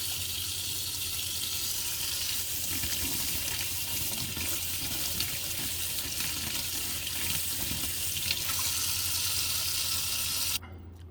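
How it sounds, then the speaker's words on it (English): Keurig water filter cartridge rinsed under a running kitchen tap, a steady broadband splash of flowing water lasting several seconds before cutting off, close and alone. "Now I'm going to go rinse it under the water."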